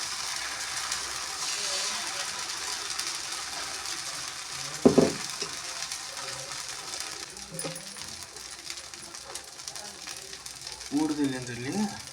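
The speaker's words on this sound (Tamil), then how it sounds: "பணியார சட்டி பணியாரத்துக்கு ஊற்றலாம்." Paniyaram batter frying in a paniyaram pan gives a steady broadband sizzle throughout, with a couple of brief clinks and scrapes of a utensil against the pan and faint background voices near the end.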